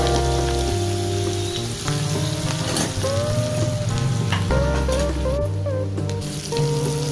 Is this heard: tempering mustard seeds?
yes